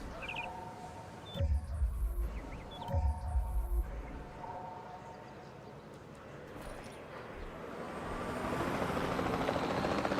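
Helicopter rotor chop in Jurassic World Evolution 2, steady and moderately distant, with two heavier thumps early on and a swelling rumble of noise toward the end.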